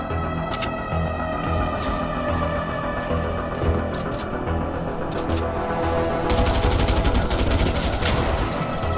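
Continuous gunfire in an Xbox shooter game, a dense, steady rattle of rapid shots lasting throughout and growing heavier toward the end, with no talking.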